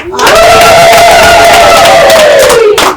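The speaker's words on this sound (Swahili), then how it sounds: "tupige tena vigelegele" Guests at a traditional Swahili wedding let out a loud, sustained ululation, a high trilling wail held for about two and a half seconds over crowd cheering.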